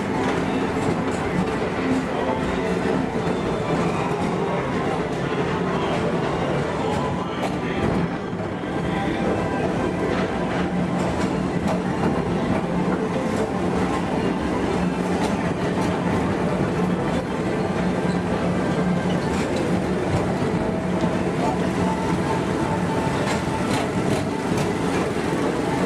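A Tomorrowland Transit Authority PeopleMover ride vehicle at Walt Disney World rolls along its track in a steady, continuous rumble with light rhythmic clatter, near and loud, with speech mixed in at times.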